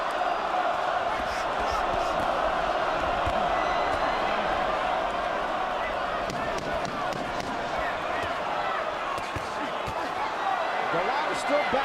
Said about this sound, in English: Pretty mixed reaction from the crowd.